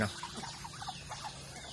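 Chickens clucking on a provincial farm in the Philippines, a mixed flock giving short, irregular clucks and chirps close by, with no talk over them.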